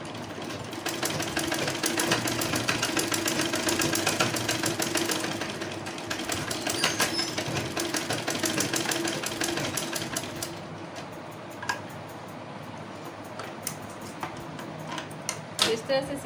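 A sewing machine stitching a dhoti salwar runs in fast, steady bursts of mechanical ticking, loudest in the first half and then stopping and starting, with someone talking over it throughout.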